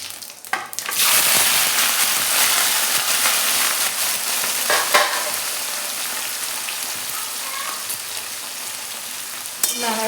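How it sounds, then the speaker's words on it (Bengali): Cauliflower and potato frying in hot oil tempered with cumin and mustard seeds, a loud steady sizzle that holds from start to finish with a few brief stirring scrapes, and no talking. "তেল গরম হয়ে গেছে, দিয়ে দেবো। এবার দেবো ফুলকপি আর আলু।"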